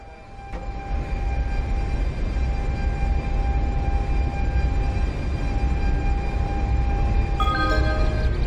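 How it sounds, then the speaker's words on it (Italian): A regional train departs Genova Piazza Principe station, heard as a steady, continuous rumble and rolling hum with faint tonal whine throughout, moderately loud and without speech. "Il treno regionale 6055 delle ore 8:27 diretto a Genova Brignole è in partenza dal binario 14."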